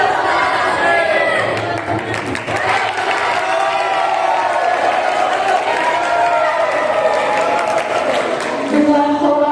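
A crowd of common people cheers and shouts acclaim for Sultan Hasanuddin as he ascends as King of Gowa, a dense, continuous roar of voices with scattered clapping throughout.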